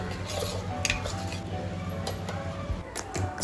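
Sugar is stirred into coconut milk with a spoon, giving soft scraping and light clinking taps against the vessel, close and fairly quiet.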